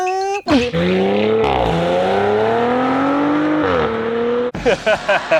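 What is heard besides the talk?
Audi RS5 exhaust with valve-controlled pipes revving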